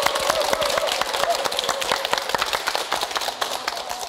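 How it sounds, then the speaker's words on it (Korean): Studio audience on a Korean TV health talk show clapping to welcome a lecturing professor, a dense burst of many hands applauding close and steady, tapering off at the end. "여러분 박수 부탁드리겠습니다"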